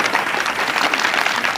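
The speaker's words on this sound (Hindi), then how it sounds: "एक बार जोरदार तालियां हो जाए" Studio audience applause on a Hindi quiz show, a steady burst of clapping from many hands, moderately loud and continuous with no talk over it.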